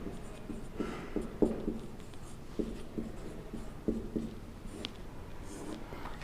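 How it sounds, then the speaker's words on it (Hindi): Chalk or marker writing the meaning of a word on a classroom board during a Class 12 English lesson: a series of soft, scratchy taps and strokes in irregular bursts, fairly close and quiet, with no talk over them. "यहां लिख देता हूं मैं परफेक्ट का मीनिंग"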